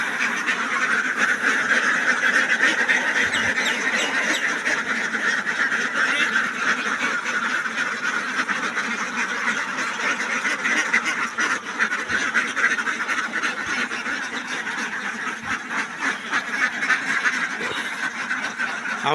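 Dense, continuous quacking from a large flock of ducks at a duck farm, loud and close, with many overlapping calls and no talking.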